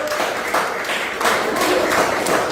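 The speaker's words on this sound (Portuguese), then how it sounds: "Dá uma linda salva de palmas ao Senhor" A church congregation applauds during a Sunday service, a dense continuous wash of many hands clapping that swells in waves, with no voices standing out.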